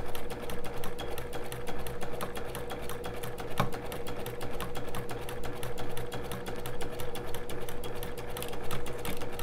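A sewing machine with a walking foot stitches curved quilting lines through fabric, its rapid, even needle chatter running steadily and close up without pause.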